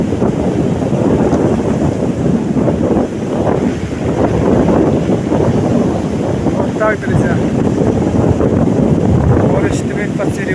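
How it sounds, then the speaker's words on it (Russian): Strong wind buffets the microphone over rough, stormy sea surf at a beach where swimming is banned, a steady loud roar throughout with someone talking over it. "море штормит по-серьезно"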